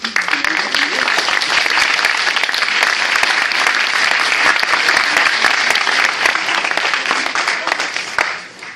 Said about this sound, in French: Gardez vos applaudissements pour les élèves de la masterclass et pour Sébastien Lambert